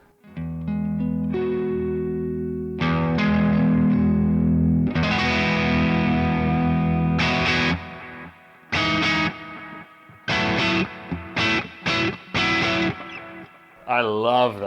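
Electric guitar driven through a Tone City pedal board with distortion, loud crunchy sustained chords followed by choppy stabbed strums, with a voice briefly over the playing.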